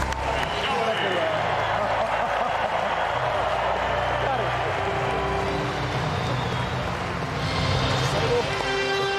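Applause for the 2011 class of enshrinees at a football hall of fame ceremony: a steady, dense wash of clapping and crowd noise that fills the whole stretch without a break, with talk mixed in.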